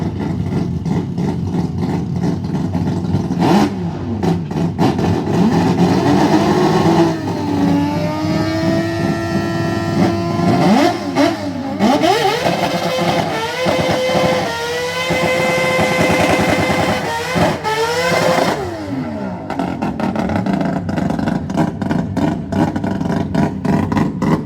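A loud Japanese-style dragster engine idles roughly, then revs hard in repeated rising and falling bursts, close by and continuous for the whole stretch with no voices.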